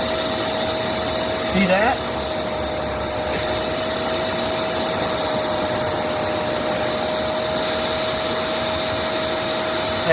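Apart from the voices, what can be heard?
Shark MessMaster vacuum cleaner sucking up debris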